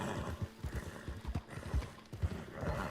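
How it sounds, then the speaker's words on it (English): Horse hooves in Red Dead Redemption 2, a worn-out mount galloping with a steady rhythmic thudding of clip-clop beats up close, plus a brief whinny, with no talk over it. "The horse is kind of worn out."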